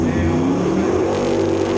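Jet sprint superboat running flat out around a water circuit, a steady droning engine roar with harmonic layers holding loud and near throughout, sung by a Fonzie Mullen-supplied engine.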